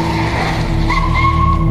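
A car skids to a stop in dust with a loud, close tire squeal layered over engine drone. A rising scrape follows partway through, and there is no talk.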